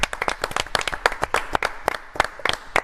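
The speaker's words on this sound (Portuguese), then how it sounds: "Palmas para as mulheres que nos assistem." A small group claps for women watching a Brazilian football broadcast after Cruzeiro's 1-0 win over Corinthians. The quick, sharp claps are uneven and close, lasting under three seconds, with no talking over them.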